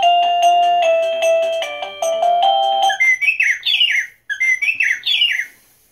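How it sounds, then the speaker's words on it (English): A wireless doorbell chime plays a loud, close melody of bright tones, then switches to a recorded bird chirping sound with quick repeated trills in two bursts. "Bird chirpings. That was loud, wasn't it?"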